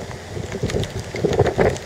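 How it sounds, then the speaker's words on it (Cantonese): Strong wind gusts under a Hong Kong typhoon signal 3 in heavy rain outdoors, heard as rough, blustery rumbling against the microphone, swelling in uneven surges over the two seconds. "風係實實在在有嘅"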